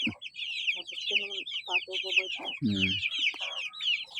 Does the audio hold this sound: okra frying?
no